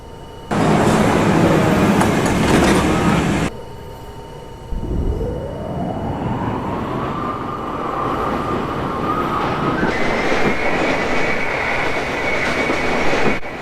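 A Roblox NYC subway train on the B/D lines rumbles along steadily, its motor whine rising in pitch as it gathers speed after a loud burst of noise at the start.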